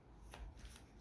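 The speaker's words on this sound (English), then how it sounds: "Let me just shuffle." Tarot cards shuffled by hand in one brief, soft burst of papery flicking and riffling, quiet and close with nothing else around it.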